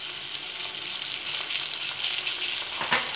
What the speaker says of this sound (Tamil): இப்போ இஞ்சி பூண்டு பேஸ்ட்டு சேர்த்துறேன்.